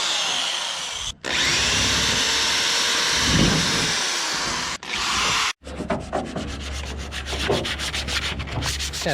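Power sanding on a fiberglass body kit fender for a Nissan 240SX, a loud continuous abrasive whir broken by brief pauses, then a rougher rapid scrubbing rasp with a low motor drone beneath.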